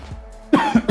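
A streamer coughs near the microphone in a few sharp, close bursts after a brief quiet stretch, the last two coming in quick succession.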